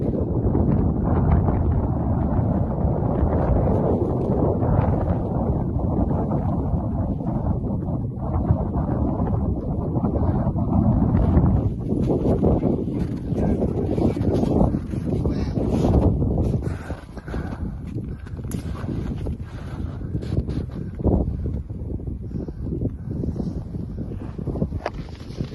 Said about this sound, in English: That wind's got a bite to it.